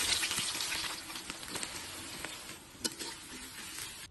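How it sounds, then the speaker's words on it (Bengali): Chickpeas fry and are stirred in a pan in a village home kitchen, a soft, steady sizzle with a few scraping stirs, faint and close, with no voices. "এখন আমি ছোলা বুট বুনে নিচ্ছি"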